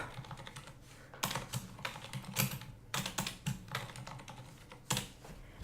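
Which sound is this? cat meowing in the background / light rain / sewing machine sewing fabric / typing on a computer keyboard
typing on a computer keyboard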